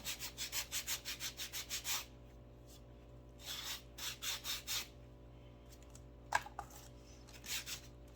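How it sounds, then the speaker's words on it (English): Hand sanding of rough edges off small craft rabbit ears, with rapid rhythmic back-and-forth rasping strokes in quick bursts and brief pauses, close and soft, no talking. "Just gonna sand it."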